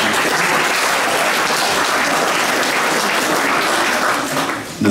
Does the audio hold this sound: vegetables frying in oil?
no